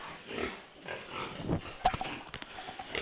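Local and Yorkshire sows on a pig farm grunt and oink close by, irregular snorts and squeals that peak in a sharp burst midway.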